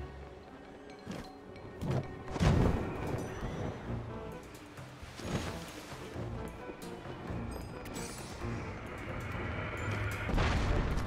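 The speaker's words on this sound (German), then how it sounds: "Ja, so eine Kanone." Several deep booming cannon blasts go off at irregular intervals over a rumbling background of game effects in Zelda: Tears of the Kingdom.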